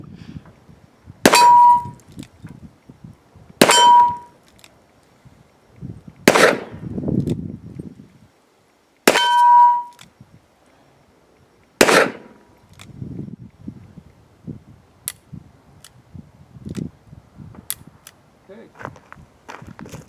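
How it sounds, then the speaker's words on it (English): A Smith & Wesson Governor revolver firing .45 Long Colt rounds at steel targets from 15 yards: five loud, evenly spaced shots, each followed by a ringing metallic clang, with softer fainter pops and shuffling afterward. "here's Luke shooting the Governor with 45 Long Colt at the steel from 15 yards"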